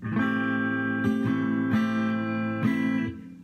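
An acoustic guitar chord strummed four times, each strum ringing out before the next, close and clear with no talking.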